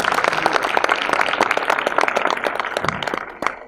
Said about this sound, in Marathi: आपण त्यांच्यासाठी टाळ्या वाजवूया